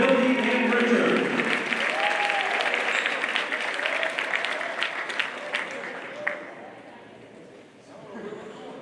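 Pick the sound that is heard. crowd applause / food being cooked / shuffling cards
crowd applause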